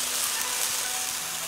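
Fried grass carp simmering in a bubbling, seasoned sauce in a wok, giving off a steady, close hiss of sizzling with no talk.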